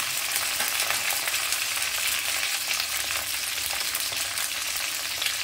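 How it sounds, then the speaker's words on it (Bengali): Vegetables fry in a pan with a spoonful of salt and turmeric for a mixed-vegetable mashkalai dal, giving a steady close sizzle and crackle with faint stirring, no talk. "এখানে এক চামচ লবণ আর এক চামচ হলুদ দিয়ে আমি ভেজে নিচ্ছি।"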